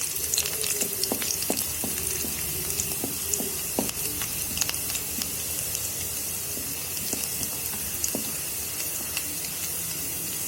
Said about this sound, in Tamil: நீல வாக்கில் கட் பண்ண கேரட், பீன்ஸ், கோஸ், குடமிளகாய் இதெல்லாம் சேர்த்து வதக்கிக்கலாம்.